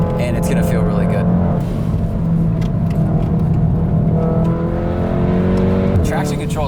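A 382-horsepower VW Golf R hatchback pulls hard under full throttle out of a corner, with a loud, steady engine roar and rising harmonic tones that climb near the end, while someone talks over it throughout.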